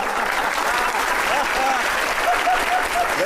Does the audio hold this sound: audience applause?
yes